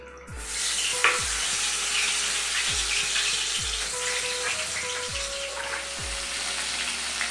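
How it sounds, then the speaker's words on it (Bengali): Steady sizzling of eggplant frying in hot oil, with soft periodic low thumps recurring about once a second beneath the crackle. "কড়াইতে তেল হয়ে গেছে এখন বেগুন হচ্ছে বিয়ে করতে বসবে"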